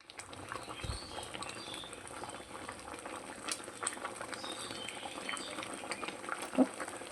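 Raw mango pieces simmer in sugar syrup for a sweet pickle, making a steady, fairly quiet bubbling and popping patter with an occasional clink.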